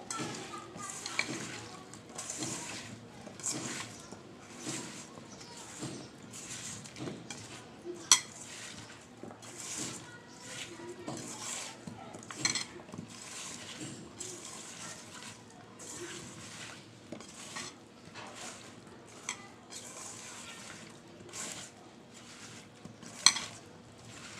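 Vegetables are hand-mixed with dried lotte fish and spices in a village-style kitchen, giving soft wet squelching and stirring sounds with occasional clinks of a pot or utensil, quiet and close.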